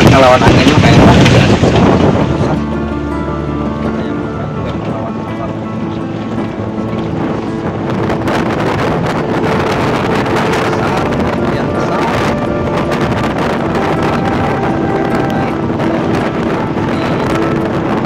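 Strong wind buffets the microphone on a fishing boat at Jatiluhur reservoir in rough weather, a loud roar that eases after a couple of seconds into steady broadband rushing with voices talking beneath it.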